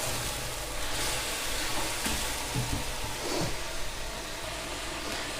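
Onions and tomatoes fry in a pan for lahori cholay, giving a steady, dense sizzle that stays fairly even throughout, with soft stirring bumps and no voices.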